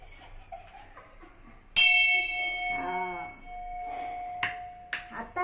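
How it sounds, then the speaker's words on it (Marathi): A prayer bell rings during home worship: one bright metallic strike rings out and sustains, and a second strike comes near the end, with voices talking and chanting around it. "घंटी वाजवून दाखवा."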